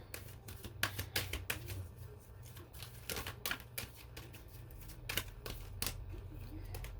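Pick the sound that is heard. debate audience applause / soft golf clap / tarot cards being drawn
tarot cards being drawn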